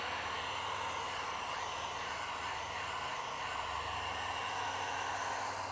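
A heat gun blows steadily at close range while warming the edges of freshly applied window tint on a Tesla Cybertruck, a continuous hissing airflow roar with no talking.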